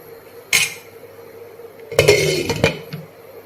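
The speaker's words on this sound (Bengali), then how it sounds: "এবার আমি ঢাকনা দিয়ে দেব।" Lid set onto a cooking pot of Bengali-style moong dal with bitter gourd, bottle gourd and drumstick: one sharp clink, then a clattering metallic clank as it settles, close and clear.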